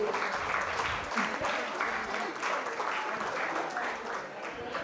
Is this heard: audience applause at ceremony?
yes